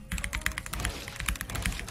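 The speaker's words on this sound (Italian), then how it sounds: "sentite che bel rumore fa la tastiera." Rapid clicking of keys on a computer keyboard during a Fortnite session, a dense close run of sharp taps heard alone at moderate loudness.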